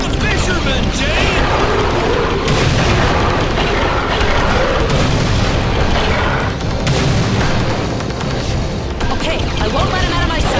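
Heavy gunfire and booming explosions fill a night raid in the video game Beyond Good & Evil, dense and loud throughout with rapid bursts and rumbling blasts, while shouted voices break through the chaos.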